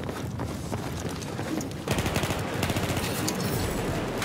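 Shotgun fire in the video game Battlefield 4 breaks out as a dense, rapid string of loud blasts, preceded by a steadier stretch of gameplay noise.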